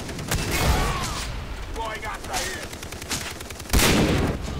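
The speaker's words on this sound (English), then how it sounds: "He's shooting me." Rapid bursts of automatic gunfire from a Far Cry game battle, loud and dense with booming hits, mixed with game noise and a voice talking over it.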